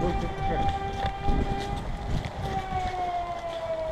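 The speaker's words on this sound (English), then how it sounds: "The air raid siren." An air raid siren wails across an airsoft game field, a steady rising-and-falling tone heard at a distance while players run and talk nearby with footsteps and wind.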